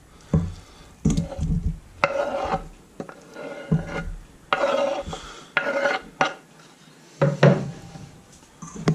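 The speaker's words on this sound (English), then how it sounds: "just thoroughly coat that all up with the marinade" Bite-sized chunks of pork fillet are stirred through an egg, salt and corn flour marinade in a bowl, giving repeated wet clinks and scrapes in short bursts about once a second, close and clear.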